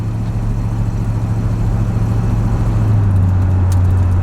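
An old Corvette pulls onto a highway, its engine a steady, loud low rumble with a constant hum and road roar that swells slightly toward the end, with no voices.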